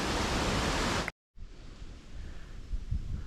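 Steady roar of a waterfall in the Lake District fells, a broad rushing wash filling the first second, then a brief cut to silence before quieter, more distant falling water resumes with a few low bumps.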